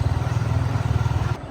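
A motorcycle rides along a rough, badly broken village dirt road between fields, its engine a steady close low rumble throughout with no talk, then the note drops away at the very end.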